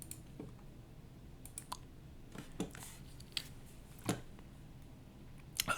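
Several quiet mouse clicks while selecting options and confirming an OK button in Excel, sparse and scattered with a couple of sharper clicks near the end, no talk.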